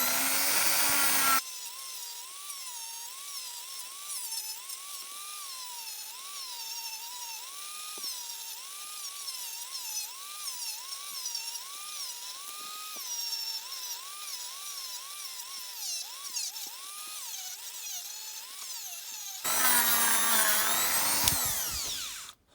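A high, whining power drill spins a buffing wheel steadily for most of the clip, its pitch wavering slightly, with louder broadband grinding at the start and end.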